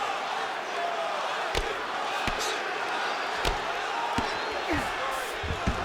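Arena crowd cheering and roaring during a Khabib Nurmagomedov vs. Kai Kara France bout in EA Sports UFC 5, a steady crowd bed broken by sharp thuds of strikes, with commentary voices over it.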